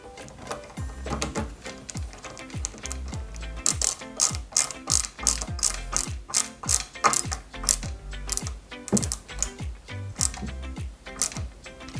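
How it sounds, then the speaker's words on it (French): A long screw driven with a screwdriver into a 1/8 scale Mercedes-Benz 300 SL model kit: a steady run of close, sharp ratcheting clicks, repeating rapidly in bursts for the whole stretch, with no talking. "ensuite, on y met une vis, une longue vis RP"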